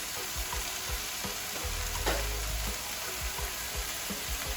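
Canned tomato sizzles in a pan over low to medium heat while being stirred, a constant close hiss with repeated soft scrapes and a short low rumbling thud partway through.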